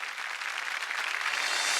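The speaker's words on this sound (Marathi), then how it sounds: "एकदा जोरदार टाळ्या होऊन जाऊ दे." A studio audience on a Marathi TV game show applauds in a dense, even burst of clapping that swells slightly over under two seconds.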